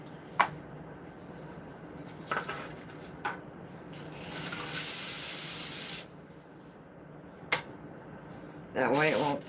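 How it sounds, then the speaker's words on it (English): Pam cooking oil spray hisses onto a pan in two bursts, a short one followed by a longer one, up close, with a person talking between the sprays. "I'm just going to spray my pan with the oil, with some Pam. Just lightly spray it."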